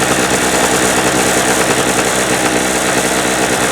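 A small engine runs steadily after being choked, a loud, even idle with a constant vibrating drone that holds without a break.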